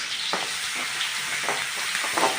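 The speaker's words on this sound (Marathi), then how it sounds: "तेल गरम झालं की त्यामध्ये जिरं घालायचं बारीक चिरलेला कांदा घालायचा" Cumin and finely chopped onion fry in hot oil in a kadhai for pav bhaji, giving a steady close sizzle with a few soft stirring scrapes.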